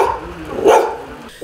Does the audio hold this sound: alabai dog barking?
yes